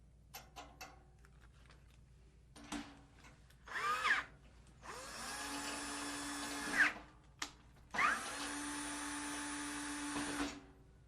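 Power drill driving a Gibraltar SC-DB drum key drill bit, used for changing drum heads: short bursts then two long, loud steady whirring runs, close up with no talking.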